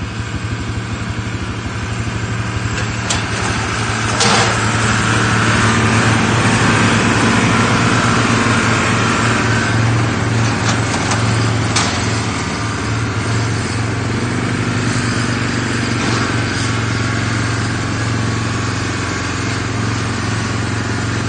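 A car engine runs steadily nearby on a farm during hay baling, a constant low hum with a droning higher whine that holds for the whole stretch without pauses.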